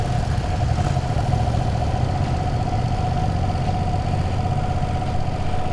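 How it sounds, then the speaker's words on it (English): Steady, close running note of a 2025 Ducati Panigale V2S engine, even and smooth with a constant hum and no revving, with no talk over it. "Immediately I noticed the engine is very smooth."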